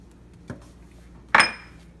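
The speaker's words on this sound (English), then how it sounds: "I'm going to drop my green peppers." Green peppers dropped into a cooking pan: a soft knock followed by a sharper metallic clatter and brief rattle as the pieces land, near and alone.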